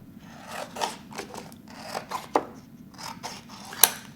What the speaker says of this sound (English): I'm just going to take my scissors and guide it around the edge